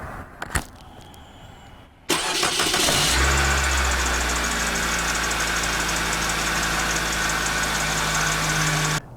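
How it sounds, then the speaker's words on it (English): A car engine cranks briefly and catches on a 12V sodium-ion battery, then settles into a steady, loud idle that runs to the end, with a few clicks and handling noises beforehand. "261 amp to start this car"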